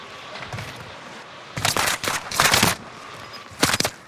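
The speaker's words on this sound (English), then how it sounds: "Under hostile fire." Bursts of automatic gunfire in a military shooter game, several loud rattling volleys in quick succession separated by brief lulls, with a final short burst near the end.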